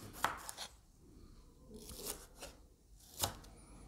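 A knife chopping tomatoes on a board for radish and tomato chutney, a few separate close cuts with quiet gaps between them, faint overall, no talking.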